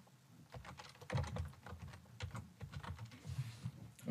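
Keys on a computer keyboard are tapped in quick irregular bursts while typing, close and fairly quiet, with no speech.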